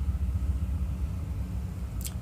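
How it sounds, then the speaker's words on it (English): A freight train passing nearby produces a continuous low rumble that holds steadily throughout, with no speech over it. "That's just a train coming."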